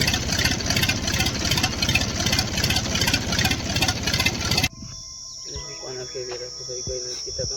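A tractor engine idles with a steady, loud, throbbing chug, then cuts off abruptly, leaving quieter background with faint chirping.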